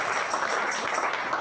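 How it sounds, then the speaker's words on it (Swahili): A church congregation applauds briefly during a Sunday sermon, clapping for Jesus in a continuous, moderately loud patter. "Tupige Yesu makofi"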